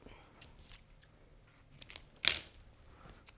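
Scissors cut once, a single sharp close snip through a small strip of duct tape, set among quiet rustling handling sounds.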